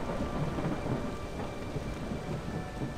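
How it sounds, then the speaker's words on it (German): Steady rain and rumbling thunder from the video game Torchlight 2 form a dense, continuous storm bed, fairly quiet and unbroken, with no voices. "Beschaulich untermalt von wässrigen Klängen des Regens."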